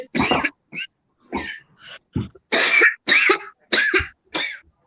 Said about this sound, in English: Sometimes I just be breathing and I just start coughing.